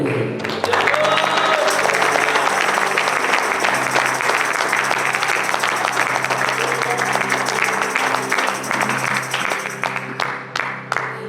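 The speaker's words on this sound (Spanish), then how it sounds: "Yo le invito a usted que le dé un aplauso al Señor." A church congregation applauds loudly and continuously during a Spanish-language worship service, with a dense wash of clapping and faint crowd voices mixed in throughout.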